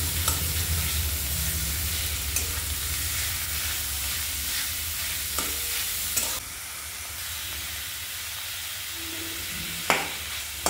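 Shredded cabbage fries in oil tinted with turmeric and cumin, a loud, steady sizzle that eases partway through, punctuated by occasional sharp stirring clatters against the pan.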